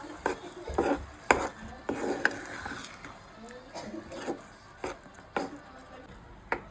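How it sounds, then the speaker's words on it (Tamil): Mashed vegetables for pav bhaji are stirred in a pan, sharp clacks and scrapes of the spoon against the metal sounding in an uneven rhythm close by, with someone speaking softly in between. "இப்போ நல்லா கிண்டி விட்டுக்கலாம்."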